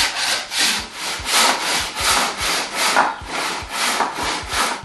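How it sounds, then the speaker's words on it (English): A hand saw rips steadily through timber while cutting the lap of a halving joint, about ten even back-and-forth strokes with a rasping, rhythmic scrape, close and fairly loud, no voices. "The stopped trench or recess is started with diagonal saw cuts to the gauge lines."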